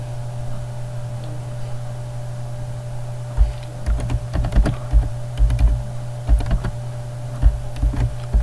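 Keystrokes on a computer keyboard while a slogan is typed into video editing software, a quiet stretch followed by irregular bursts of clicks from about the midpoint, heard close against a steady electrical hum with no talking.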